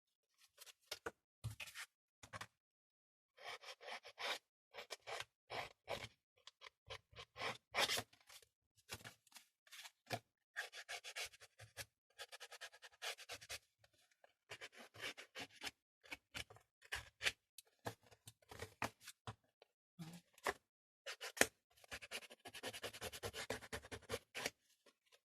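Old scissors scrape across a piece of card in a long series of short, close rasping strokes, irregular and fairly quiet, with brief pauses between bursts and no talking.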